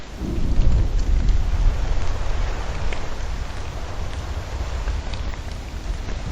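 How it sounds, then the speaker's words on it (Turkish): Heavy rain and rolling thunder from the video game Don't Starve, a loud, continuous downpour with deep rumbling that peaks early and then settles into a steady roar. "Harbi yağmur yağıyor."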